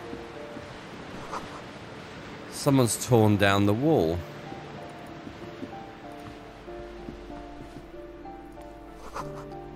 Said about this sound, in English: Waves crashing in the darkness.